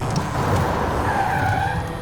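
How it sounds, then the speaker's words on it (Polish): An electric Porsche Taycan drifts in Forza Horizon 5, its tires squealing in a sustained, loud screech over a steady road roar, with no engine note and no talking. "samochód elektryczny na drift. W tym wypadku był to Taycan."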